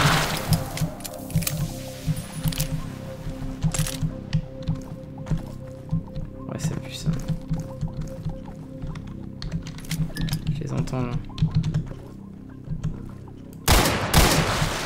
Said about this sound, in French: Oh, ça a explosé.